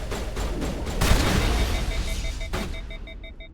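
A shotgun blast in the video game Mass Effect, a loud booming shot followed by another sharp report, set against game background noise and faint tonal beeps.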